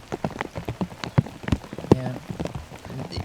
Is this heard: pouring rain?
yes